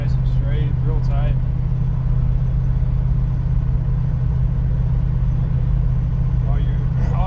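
A 1965 Ford Mustang K-Code cruises in third gear with a steady, loud low engine rumble, with someone talking briefly over the drone.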